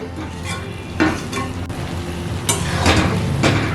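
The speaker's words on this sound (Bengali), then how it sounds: "এইভাবে কন্টিনিউ নাড়াচাড়া করে আচারটাকে আমি আরেকটু ঘন করে নেব" Jujube pickle stirred in a pan over medium-low heat as it thickens, with close scraping strokes of a spoon against the pan over a soft sizzle, repeating at an irregular pace.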